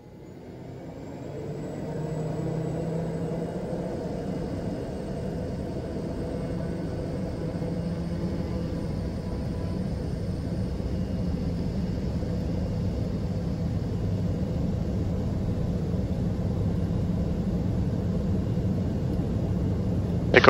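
A Piper M600 turboprop rolls down the runway on takeoff, its engine rising from quiet to a steady, loud droning roar with wind and rumble building over about twenty seconds.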